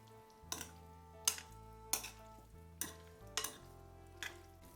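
Prawns tossed and stirred together in a pan, with about six sharp scraping strokes at a steady rhythm over a soft sizzle and a faint low background hum.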